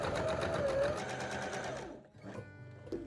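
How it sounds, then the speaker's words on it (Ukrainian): Sewing machine stitches steadily around the perimeter of children's backpack panels laid on interfacing, a loud, close, continuous run that stops abruptly, leaving faint handling noise. "Передню та задню основні деталі накладаємо на ущільнювач лицем наверх та прокладаємо строчку по периметру."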